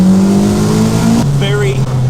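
Caterham 420R lightweight sports car engine revs loudly and steadily, its pitch holding then dropping slightly as the note shifts, with a brief voice underneath.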